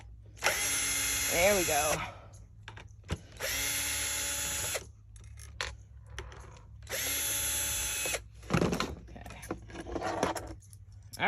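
Power drill driving screws while building a fold-away stove into a van door, three sustained whirring bursts of about a second and a half each, with clanks and a brief spoken remark between them.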